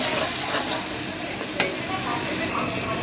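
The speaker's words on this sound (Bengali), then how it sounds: "এখন আমি মশলাটাকে ভালোভাবে কষাবো" Spice paste being sautéed in a pan for a village-style fish biryani, with a steady broadband sizzle and occasional soft stirring scrapes, close and continuous with no talking.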